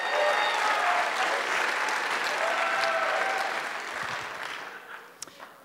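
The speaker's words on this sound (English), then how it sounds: "Let's give them a round of applause." A conference audience breaks into sustained, dense applause that gradually fades out over several seconds, with faint voices underneath.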